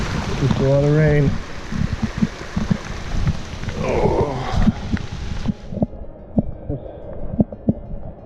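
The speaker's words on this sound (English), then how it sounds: "Yep, just a lot of rain." Heavy rain pours over an Appalachian Trail path with water running off and pooling near a pond crossing, a steady close wash of noise with someone speaking over it partway through.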